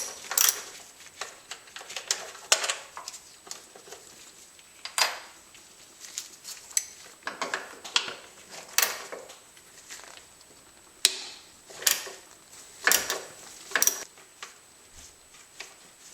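A 10mm socket wrench ratchets out the timing belt cover bolts on a Honda Prelude in short, quiet bursts of clicking. The bursts are separated by brief pauses and sound close and faint, with no voices.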